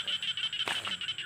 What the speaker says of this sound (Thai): โอ้เสียงกบเสียงเขียด